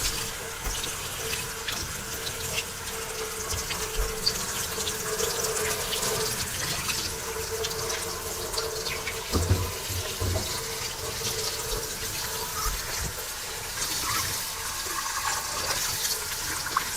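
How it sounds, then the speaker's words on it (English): Tap water pours steadily into a kitchen sink while starch is rinsed off potatoes, a continuous close rushing splash with occasional small knocks and handling sounds. "to rinse all of the starch off of these potatoes"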